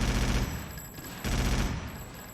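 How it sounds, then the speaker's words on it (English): Dense, sustained gunfire from the video game Earth Defense Force 2017 rattles continuously for a couple of seconds, loud and heavy with a deep low rumble, with a brief dip midway before the shooting surges again. "The audio for the many guns and explosions is pretty fantastic"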